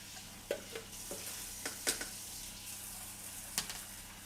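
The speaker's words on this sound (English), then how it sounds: "Just give it a stir. Get all that starch off there." Jasmine rice being stirred by hand in water to wash off starch, with soft swishing and several short sharp grain-and-water clicks and splashes scattered through a steady low hiss.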